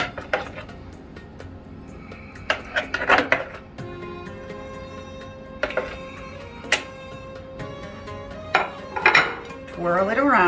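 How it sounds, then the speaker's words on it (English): Hummus being spooned onto a plate for serving, with scattered clinks and scrapes of cutlery against dishes, sharp metallic taps in small clusters over a quiet kitchen background. "I'm going to put it on a plate."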